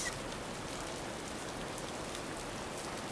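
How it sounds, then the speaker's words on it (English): Drizzle falls in a steady, even patter, a dense continuous hiss of small drops with no voices or other sounds. "the steady patter of drizzle fills the spaces between footsteps"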